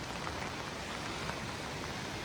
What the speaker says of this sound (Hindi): बारिश बहुत ज़्यादा है आज।